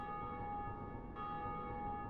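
A church bell tolling in Dark Souls Remastered, a sustained, ringing metallic tone with a rich hum of overtones, fairly faint and steady, with a slight swell midway.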